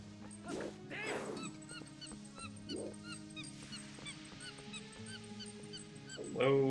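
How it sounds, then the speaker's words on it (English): Geese in the game Twilight Princess HD honk repeatedly, a series of nasal calls at moderate distance over a steady game soundtrack, with a louder burst near the end. "The geese came weirdly close"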